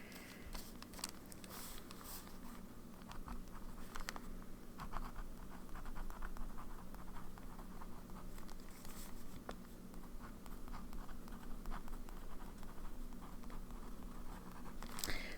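Pen with Wearingeul Floating Cloud ink writing on textured paper: faint, continuous scratchy strokes with small taps and pauses, quiet and close throughout.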